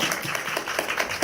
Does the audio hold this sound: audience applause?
yes